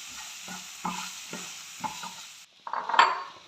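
Chopped plantain being stirred and fried in a pan for kaipola: a steady sizzle with repeated scraping stirs, then a louder burst of stirring and sizzling near the end, with no talking.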